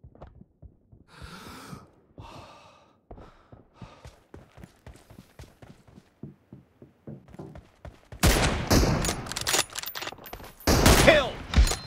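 Gunfire in the PUBG video game, first as sparse sharp shots with brief quiet gaps, then a dense loud burst of rapid automatic fire filling the last few seconds.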